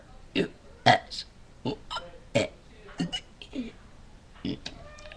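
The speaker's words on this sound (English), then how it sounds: "I'm gonna burp my ABCs." A person burps through the alphabet, a rapid series of short, loud, throaty belches in an uneven rhythm, close up with little else around them.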